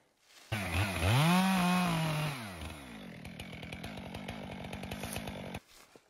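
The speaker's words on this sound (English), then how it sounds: "cutting down a bunch of happy little trees" A chainsaw cuts down a small sugar pine dying of blister rust. The engine revs up loud and steady, drops as the blade bites, then chatters through the wood for several seconds before cutting off, with no talking.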